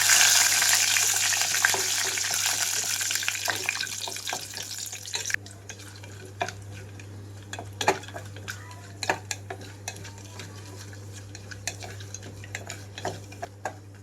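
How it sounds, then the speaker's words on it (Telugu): Cashews, whole spices and a bay leaf fry in hot oil. A bright sizzle fades after a few seconds, leaving quieter scattered clinks of a spoon against the pan and light crackles. "ఇక్కడ ఆయిల్ కాగిన వెంటనే నేను జీడిపప్పు అలాగే మసాలా దినుసులు మొత్తం వేసేసుకుంటున్నానండి."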